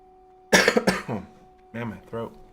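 A man coughs twice in quick, harsh bursts, then after a pause clears his throat with two shorter raspy grunts, close and dry against a quiet background with a faint steady hum.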